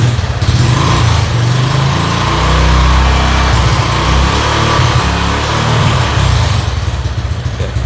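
A motorcycle engine idles loud and close, then is revved up while the battery charging voltage is checked, its steady churning drone rising and falling without a break and no talk over it.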